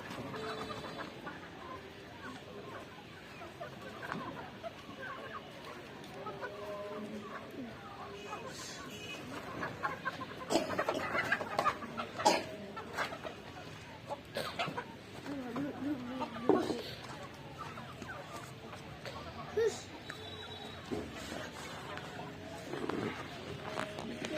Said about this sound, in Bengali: এই দেশি মুরগিগুলো উঠানোর চেষ্টা করতেছি